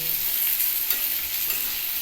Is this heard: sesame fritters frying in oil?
yes